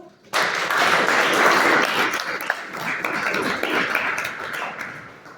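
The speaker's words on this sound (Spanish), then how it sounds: "Un aplauso, por favor" An audience at a panel forum breaks into steady applause for a sociologist and journalist being introduced, a dense, sustained wash of clapping that starts abruptly and holds fairly loud throughout.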